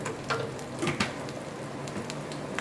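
Mustard oil poured into hot oil left from frying crabs, giving a steady, moderate sizzle with a few brief crackles and spits, and no voices over it.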